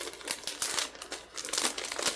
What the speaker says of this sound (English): Pardon the crinkle, but I'm going to put it back in the bag while I'm thinking of it.